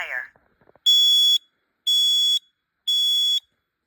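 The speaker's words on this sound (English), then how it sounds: "It does say fire when after these 6 beeps." A smoke alarm sounds three loud, harsh electronic beeps about a second apart during a test, each lasting roughly half a second, after a brief voice at the start.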